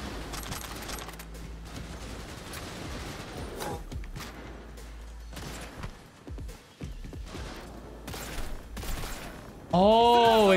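Gunfire in the game Cyberpunk 2077, a sniper firing amid a chaotic firefight with repeated sharp cracks and bursts, a crash and electronic warbling tones near the end, loud and busy throughout.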